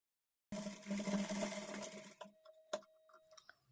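A sewing machine runs in a steady buzzing burst while stitching the neck of a kurti, then stops, leaving a few faint clicks and taps close by.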